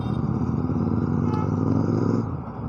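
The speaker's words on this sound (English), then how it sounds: "keep your ears open to the sound of the engine" A steady car engine drone with a brief rise in pitch near the middle during a rev match, then a drop as it settles, close and fairly loud.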